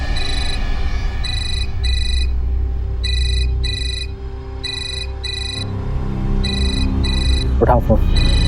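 A telephone rings repeatedly in a home, its electronic tone coming in regular paired bursts throughout, with a low background bed and faint voices underneath.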